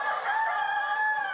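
Rooster crowing with chickens in an organic barn, a sustained bright call held steadily for over a second, fairly close and loud with no talk.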